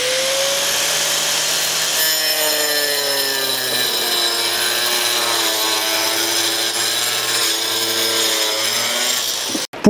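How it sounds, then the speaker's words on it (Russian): A power saw cuts a small piece off a Cedral fiber cement siding panel, producing a loud, continuous grinding whine whose pitch slowly drops as the blade loads up, ending in a brief clatter. "И начинаем обрезать вот этот небольшой кусок."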